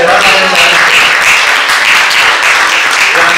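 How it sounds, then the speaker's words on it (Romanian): Applause for a veteran internet pioneer at a Romanian awards gala fills the room, a dense, loud, steady crowd clapping throughout. "Aplauze pentru veteranul."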